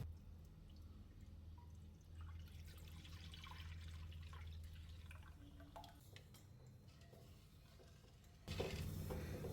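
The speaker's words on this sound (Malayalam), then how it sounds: "ഇതിലേക്ക് ജ്യൂസ് ഒഴിക്കാം." Beetroot juice poured into a pan on the stove for beetroot halwa, a gentle continuous trickle of liquid at close range, ending with a louder clatter.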